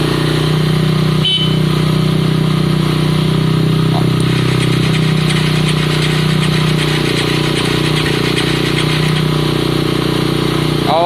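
A Honda CBF 125 motorcycle engine starts up and settles into a loud, close, steady idle with a low hum. A brief sharp noise cuts in early, and faint background sounds come and go.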